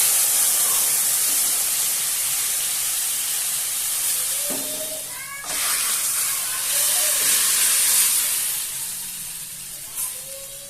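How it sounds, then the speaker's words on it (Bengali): Water poured into a hot pan of fried garlic while making a gourd-greens fish curry, giving a loud, sustained steaming hiss and sputter that surges around the middle and settles, with a few brief clinks. "আমি জলটা ঢেলে দিচ্ছি"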